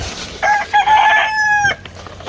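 Chickens in a coop with a rooster crowing clearly, one loud drawn-out call with harmonic tones, plus nearby clucking, close and alone without talk.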